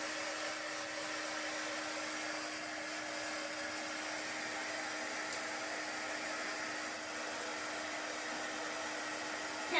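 A heat tool drying chalk paste on a craft project gives off a steady, close, even whir of blowing air, unbroken and constant from start to finish.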